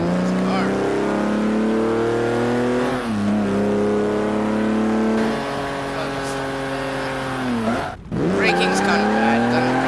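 An Austin Healey 3000 MKIII engine in the Garry's Mod video game drones with a strong harmonic hum, its pitch sweeping down and back up through revs and shifts, with a brief dropout near the end.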